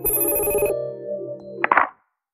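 A telephone rings for an incoming call with a bright, warbling electronic ring that stops abruptly, followed by a short clattering pickup, with no voices.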